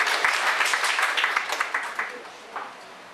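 Audience applause welcoming a singer to the stage, a loud dense burst of clapping that gradually thins out and fades to a few scattered claps.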